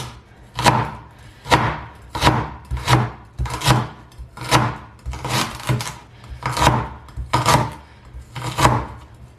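A knife cuts through cabbage on a board for homemade sauerkraut, about ten evenly spaced crunchy slices with a thud on each stroke, close and clear with no talk.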